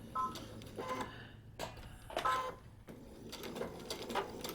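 A sewing machine stitches a quilt seam in short bursts, running forward, pausing, then reversing to backtack. The whirring runs come as several separate pulses with brief quiet gaps between them, fairly close and moderately soft.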